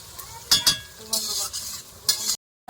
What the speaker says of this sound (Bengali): এগুলো একটু ভেজে নেবো লাল লাল করে একটু লাল করে ভেজে নেবো